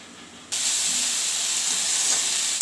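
Tamil-style greens, including thuthuvalai leaves, sautéing in a hot pan: a steady loud hiss and sizzle kicks in abruptly after a brief quiet start and holds evenly to the end.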